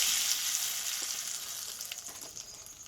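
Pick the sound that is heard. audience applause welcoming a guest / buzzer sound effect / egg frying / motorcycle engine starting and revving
egg frying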